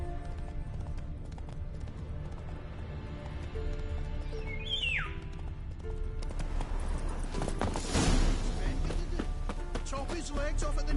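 Horse hooves clip-clop steadily in The Witcher 3 game, with a clear neigh midway and a louder clatter near the end, layered over game music and ambience while a voice talks.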